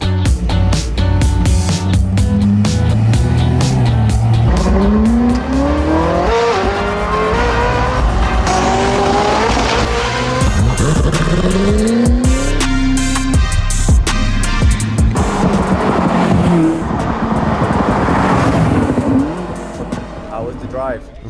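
Koenigsegg Jesko hypercar accelerating hard along English country roads, a loud, close engine whose pitch climbs in repeated sweeps through the gears, with voices talking over it for most of the run.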